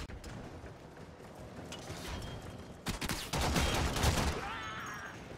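Gunfire in the game Warframe bursts out in a dense rattling volley over busy game sounds, growing louder toward the end.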